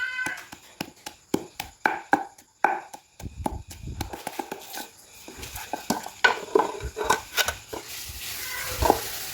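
Lemongrass and shallots pounded in a mortar with a pestle, a series of close, uneven thuds and knocks in a rough rhythm, with some brief pauses between bursts.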